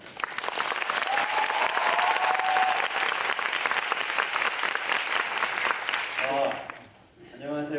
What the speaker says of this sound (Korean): 어제 마지막 공연을 마치셔서 한 번 더 뜨거운 박수